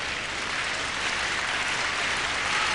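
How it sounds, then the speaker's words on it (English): A crowd at a 1989 Basel indoor tennis semifinal between Edberg and Connors applauds in a steady, dense wash of clapping that holds for a few seconds to encourage Connors. "And the crowd trying to encourage Connors."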